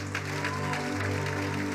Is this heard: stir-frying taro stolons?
no